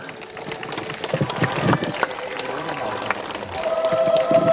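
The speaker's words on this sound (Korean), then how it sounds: "우리 모두 다 같이 마음을 담아서 아, 같이 박수로 올렸습니다." Audience applause at a Buddha's birthday lantern event, a steady patter of clapping mixed with crowd noise and a voice, building slightly and carrying on with a faint tone near the end.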